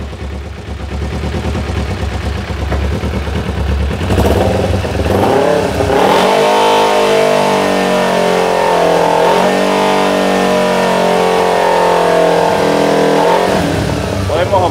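A small motorcycle engine idles with a clattery low rumble, then is revved and held at a higher, whining pitch for several seconds before easing off, loud and close, with someone talking over it.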